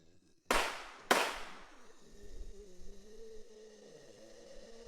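Two sharp gunshots ring out in the Infestation WarZ video game, loud and close, about half a second apart, each with a decaying echo, over a low steady background hum.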